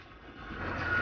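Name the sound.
forklift moving cars onto metal racks at a junkyard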